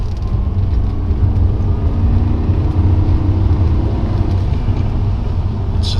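BMW 535i Alpina V8 engine pulling under acceleration, a steady, loud low rumble with road and wind noise, continuous throughout from inside the car.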